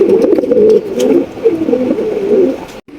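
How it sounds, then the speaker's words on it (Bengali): Danish pigeons coo at a pigeon farm, a close, steady run of soft, throaty rolling coos that repeat in a pulsing rhythm with no talk over them. "এখানে কিন্তু আরো এক জোড়া ডেনিশ কবুতর"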